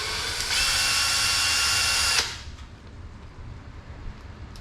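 A power screwdriver drives small button head screws while a servo is installed in an RC truck, with one loud steady whir of about two seconds that stops abruptly, followed by quiet handling noise.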